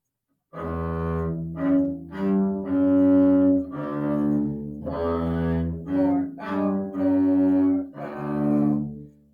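Low bowed double bass notes in a steady rhythmic pattern of long and short strokes, close and clear, with no voices.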